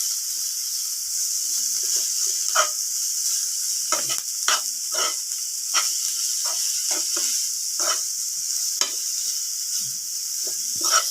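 Crabmeat frying in a pan for a crabmeat omelette, stirred continuously, giving a steady near hiss and sizzle with repeated scraping strokes of the spoon across the pan, no voices.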